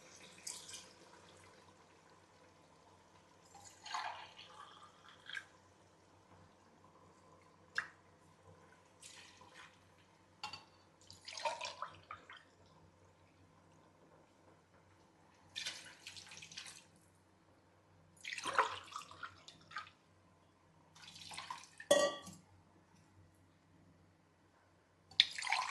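Water poured into soaking rice for chicken biryani, several separate splashing pours in short bursts at close range, with quiet pauses and faint drips between them.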